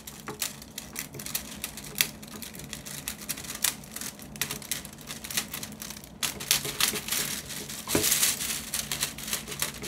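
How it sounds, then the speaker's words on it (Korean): A plastic bag rustles and crinkles up close in sharp irregular bursts, growing louder and busier toward the end, with no voices. "이 비닐봉지 바스락거리는 소리가 그 영상 보시면은 되게 신경이 쓰이더라고요"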